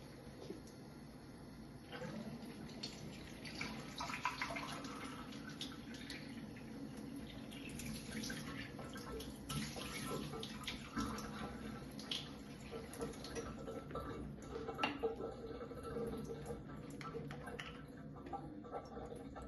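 Tap water running steadily into a glass, a continuous quiet splashing stream that lasts throughout, faint and fairly distant, with no voices.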